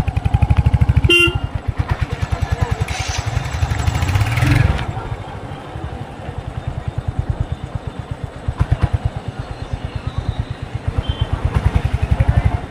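On a forest track near Joypur, a motorcycle engine thumps loud and close, with a short horn blast near the start, a brief surge of revving, then a steady pulsing drone.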